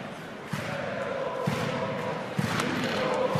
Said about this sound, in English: Luleå fans refusing to get down as they still get the chant and the clap going on